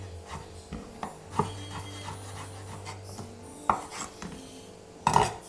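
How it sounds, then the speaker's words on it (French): A knife dices cooked carrot into small brunoise cubes on a board, giving a few sparse, sharp taps at irregular intervals over a quiet kitchen background. "Ici j'ai ma carotte cuite qu'on va débiter pareil en petits cubes."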